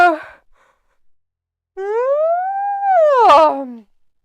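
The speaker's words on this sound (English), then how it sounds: "Uncalled for yawn." A person lets out a loud, drawn-out voiced yawn while watching a live AEW Dynamite wrestling broadcast. The single close yawn rises and then sinks in pitch before ending in a breathy exhale, preceded by a short breath and near silence, with no talking.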